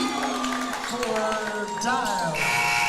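At a high school basketball game between Breathitt County and Martin County, the buzzer ends the first half with a sustained electronic tone near the end, heard under an announcer's talk and crowd noise.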